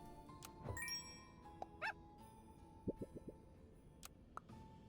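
Cartoonish puppy bark sound effect from the video game Super Auto Pets, a couple of short yips among chimes and clicky interface sounds, with faint game music underneath and no talking.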